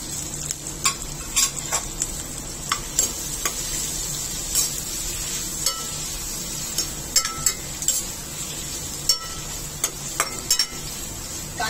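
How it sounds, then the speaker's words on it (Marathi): Sliced onions sauté with ginger, garlic and green chillies in a pan, giving a continuous close sizzle broken by frequent light clicks and scrapes of a spoon stirring against the metal. "कांदा चांगला परतून घ्यायचा आहे"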